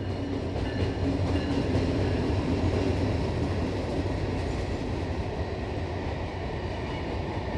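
A freight train passes nearby on a main rail line, a loud, steady low rumble of wheels and wagons with a faint rhythmic clatter running unbroken for several seconds, with no voices.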